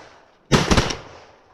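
A single loud shotgun blast during a public-land dove hunting opener, sharp and close, with the report decaying quickly into quiet open-air ambience.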